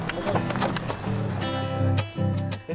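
Pack horses carrying supplies to mountain refuges in Patagonia clip-clop in a quick, uneven rhythm of hoof strikes, heard over a faint tonal background.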